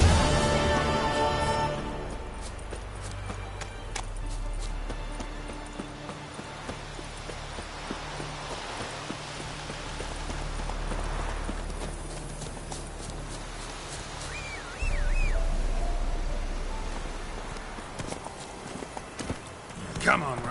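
Hooves of Geralt's horse Roach clip-clop at a gallop in the video game Witcher 3, a steady rhythmic pounding that swells and fades over the length, moderately loud under game music and a speaking voice.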